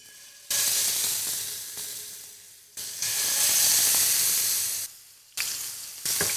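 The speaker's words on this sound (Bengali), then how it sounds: "আমাদের ক্যাবাবের স্টিক কিন্তু ফ্রাই হয়ে যাচ্ছে" Kebab sticks sizzle and fry in a hot pan, a loud steady hiss that surges in long bursts, drops briefly and flares up again, with no talking over it.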